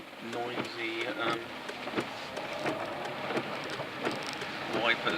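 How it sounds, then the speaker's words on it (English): Heavy rain pounds a car in a storm as the windscreen wipers sweep back and forth in a steady rhythm, with someone talking over the noise. "It's raining quite hard, and you might hear heavy rain and stuff."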